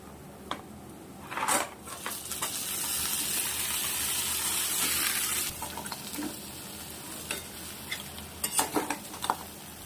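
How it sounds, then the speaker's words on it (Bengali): Spiced potatoes and crab fry in a pan, a steady loud sizzle with bursts of stirring and utensil scrapes against the pan, close up and with no talking. "এবার আমি আলু আর কাঁকড়াটা দিয়ে কষবো।"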